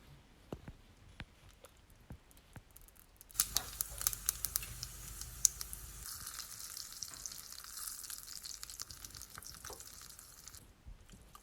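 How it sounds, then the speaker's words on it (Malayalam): Mustard seeds, curry leaves and dried red chilies hit hot oil for a tomato chutney tempering, bursting into a loud, close, crackling sizzle after a few quiet seconds, then steady spattering that continues to the end. "എണ്ണ ചൂടായതും ഇതിലോട്ട് കടുകും കറിവേപ്പിലയും വറ്റൽമുളകും ചേർത്ത് കൊടുത്തു."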